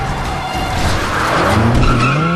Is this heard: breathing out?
no